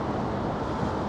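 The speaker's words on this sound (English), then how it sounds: "So like I say, it's certainly windy" Steady, close wind roars and buffets the microphone in a constant rush with no voices, on Talbot Road in Blackpool.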